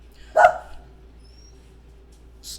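A dog barks once, sharp and close, at the mailman, then a quiet room follows, with a faint high yip at the end.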